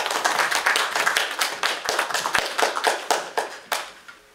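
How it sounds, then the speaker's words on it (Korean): A church worship audience claps to welcome the Rev. Kim as he comes up to preach at a denominational workshop service, a dense run of fairly close hand claps with a few sharper single claps standing out, fading slightly near the end. "우리 큰 박수로 총회장님 모시도록 하겠습니다"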